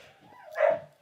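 A single dog gives a short, yelping bark that rises and falls within a second, fairly close and clear, with no talking around it.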